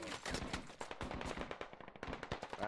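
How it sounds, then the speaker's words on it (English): Gunfire in a military video game, rapid bursts of close and distant shots crackling in an irregular stream, fairly faint overall with no talk over it. "That's bullets."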